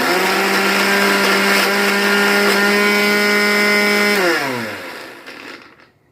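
An electric mixer grinder whirs loudly and steadily while grinding ginger chutney, a close, constant motor whine that winds down and stops near the end.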